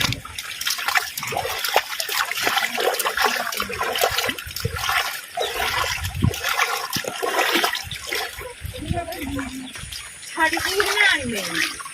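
Floodwater rushes steadily through a village, a broad continuous wash of moving water heard close, with people talking and calling out over it throughout.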